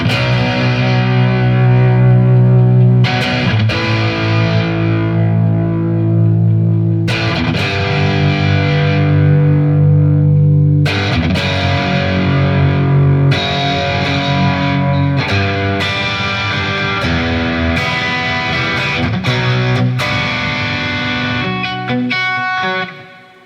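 Distorted electric guitar plays chunky power chords, loud and sustained with effects, ringing chord hits and short pauses between phrases, alone with no talking.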